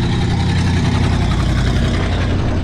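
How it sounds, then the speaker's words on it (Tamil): An old Soviet-era municipal garbage truck in Azerbaijan idles close by, a steady, loud low-pitched diesel rumble running unbroken throughout with no voices. "இந்த வண்டி பாருங்களேன், சோவியத் டைமோட பழசு போல் இருக்குது"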